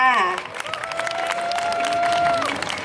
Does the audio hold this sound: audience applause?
yes